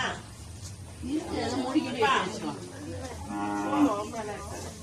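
Cattle moo several times at a Mattu Pongal festival, deep drawn-out lowing calls at close range, with people talking in the background between and over the calls.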